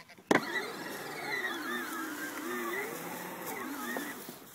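A small ride-on toy car reversing under power, a whining electric motor that rises and falls in pitch steadily for several seconds after a sharp click at the start.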